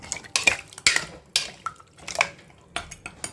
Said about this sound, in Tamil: இப்போ இதை மிக்ஸ் கொடுத்துக்குருவோம்